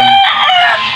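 A rooster crows close and loud in a short, strident burst of one call, heard on a farm plot with pigs and mango trees nearby.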